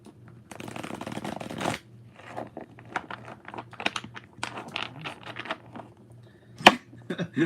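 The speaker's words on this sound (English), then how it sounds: "Got some good shuffling in here." Playing cards shuffled several times in quick riffling bursts, close by, with a steady low hum underneath and a sharp click near the end.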